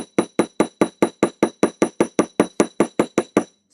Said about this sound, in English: So you're going to be doing some randomized hammering